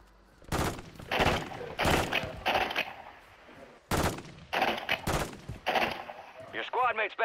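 Bursts of automatic gunfire and heavy shots in a military shooter video game, loud repeated volleys with short pauses between them and a voice calling out partway through.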